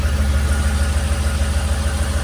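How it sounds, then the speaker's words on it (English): A Ford F-150 4x4 engine idles steadily, a low, even rumble with a slight rhythmic pulse, close and fairly loud with no talk over it. "Gonna turn the engine on"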